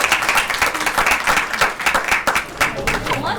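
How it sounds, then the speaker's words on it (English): Graduation audience applauding, a dense, continuous wash of clapping close by with some voices mixed in. "give another round of applause for everyone"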